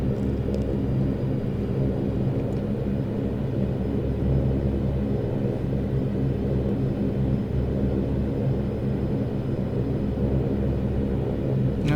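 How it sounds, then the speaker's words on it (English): A Saab 340 turboprop in X-Plane 11 taxis with the throttle just above ground idle, giving a steady, unbroken low rumble and drone with a faint high whine, with no talking. "Just going to move the throttle a notch off ground idle to get us moving"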